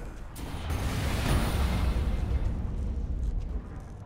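Fire catching and flaring in Dead Island 2, a broad roaring whoosh that swells and holds steadily for several seconds, close and without speech.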